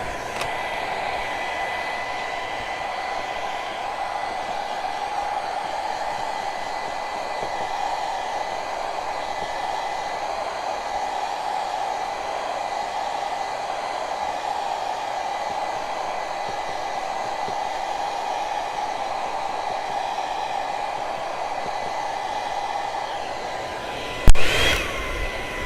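A hair dryer blows steadily and fairly loud, drying glue on a handmade craft project, a constant whooshing hum that runs unbroken for about twenty-four seconds before a brief bump and cutoff near the end.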